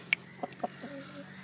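Japanese hens and a rooster giving a few short, soft clucks and a brief higher chirp close by, spaced irregularly over quiet background noise.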